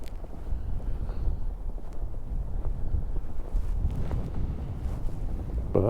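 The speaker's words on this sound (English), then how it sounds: "A little bit windy." Steady wind gusting across open ground with drifted, smoothed snow, a continuous low buffeting roar close on the microphone throughout, rising and falling slightly, with no talking.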